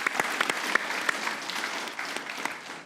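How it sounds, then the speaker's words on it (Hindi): People clap briefly in praise of a cricket bowler during a cricket discussion. The applause is fairly sparse, with a few sharp, distinct claps standing out over a softer patter, and no talking over it. "विकी भाई के लिए तालियां होनी चाहिए भाई साहब।"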